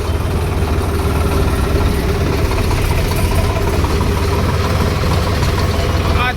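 A tractor engine idles close by, holding a steady, loud low rumble with a constant vibrating throb throughout.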